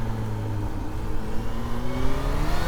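A Kawasaki Z H2 motorcycle engine held near steady throttle during a wheelie, a close, loud whine that rises slightly with rushing wind, no talk.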